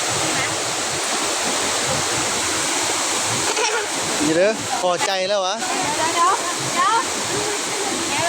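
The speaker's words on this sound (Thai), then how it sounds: "ว้าวนี่เป็นน้ำตกตาดแกงยุยทุกคน" Tad Kaeng Yui waterfall roars with a constant, dense rush of falling water close by, while people talk and exclaim over it in the second half.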